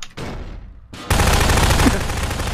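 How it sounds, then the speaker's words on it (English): Gunfire in a Garry's Mod Prop Hunt match: after a brief lull, a loud, dense, continuous burst of rapid shots fills the rest of the moment without letting up. "he shot too many bullets"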